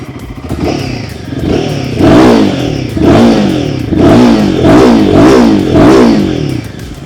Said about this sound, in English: the way that engine and exhaust growl together